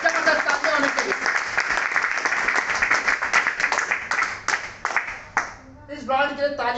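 An indoor audience claps loudly and steadily for the Element brand, a dense patter of many hands that fades after about five seconds. A voice then starts speaking.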